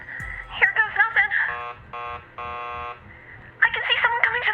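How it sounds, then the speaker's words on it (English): Door buzzer rung at a building entrance in the video game Killer Frequency: two loud, steady electric buzzes, with voices talking before and after. "keep calm and ring the buzzer"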